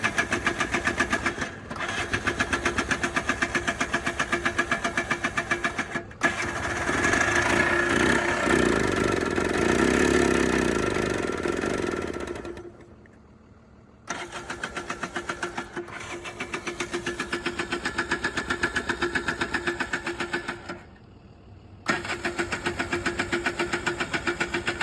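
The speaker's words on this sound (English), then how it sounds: "Okay, well she's firing." A Polaris Trail Boss 250 4x4 ATV engine, rescued from a scrap yard, runs on full choke with a steady buzzing idle, revving up midway, then stalling briefly and restarting a couple of times.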